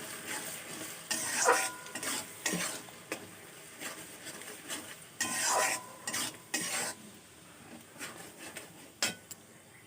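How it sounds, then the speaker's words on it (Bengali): Soft frying sizzle of onion paste in oil for chicken and potato curry, with repeated stirring and scraping strokes, some light metallic clinks, fairly quiet and close. "এবার ভালো করে তেলে কষিয়ে নিচ্ছি"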